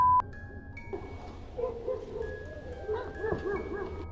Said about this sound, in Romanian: ce ne latră câine să mor